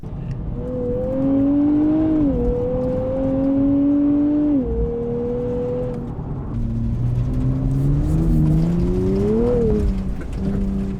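Nissan Z NISMO pulling away and accelerating, engine note rising through gears with clear pitch drops at each shift, steady and close, no talking.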